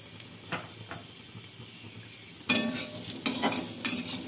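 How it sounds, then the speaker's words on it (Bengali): Potatoes fry and sizzle in a pan after cumin tempering for a vegetarian pointed gourd curry, with a quiet hiss under intermittent stirring and scraping that grows louder in the second half. "আলুগুলো দিয়ে একটু ভাজা ভাজা মতো করে নিচ্ছি"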